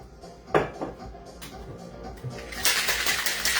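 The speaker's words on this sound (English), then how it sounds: "Now, at this point, we're going to shake it up." A cocktail shaker packed with ice is shaken to mix a root beer rum cream. After a sharp clink near the start, it settles into a loud, steady rattling swish over the final second.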